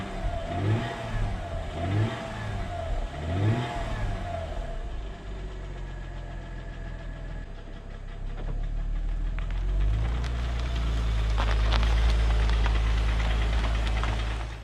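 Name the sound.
car engine knocking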